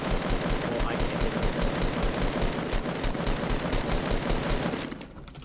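Rapid automatic gunfire in the video game Fortnite, a loud continuous stream of evenly spaced shots lasting several seconds before cutting off abruptly, with voices partly underneath.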